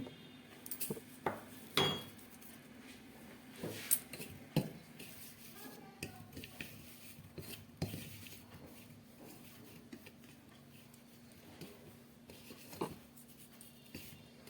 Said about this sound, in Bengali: খুব ভালো করে নুনটা মেখে নিলাম